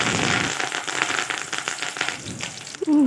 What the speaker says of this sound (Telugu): ఆయిల్ వేడిన తర్వాత కరివేపాకుని వేస్తున్నాను